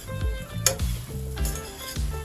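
Small potatoes frying in oil with crushed papad, stirred in a pan with a spatula, giving a soft sizzle under several distinct rhythmic scraping and clinking strokes.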